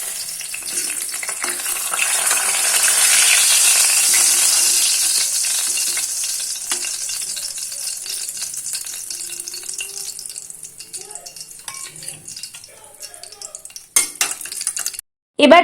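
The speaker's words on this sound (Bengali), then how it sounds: "একটা মাছ ভেজে দিচ্ছি" Rohu fish frying in a pan at home, a steady hiss and sizzle of oil that swells then fades, with a few clinks of utensil and spatula near the end.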